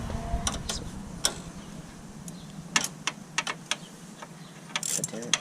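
Quick ratcheting clicks of a wrench tightening a hose clamp on a MAPerformance intercooler in a 10th-gen Honda Civic Si, coming in short irregular bursts with brief clanks of metal, close up, with faint talk in the background.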